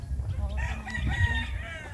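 A fighting rooster crows nearby, its drawn-out harsh call rising and falling over a low background rumble, with faint voices in the distance.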